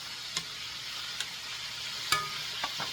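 Cubed steak browns in a hot pan with a steady, faint sizzle, broken by a few sharp clinks and scrapes of a utensil against the pan.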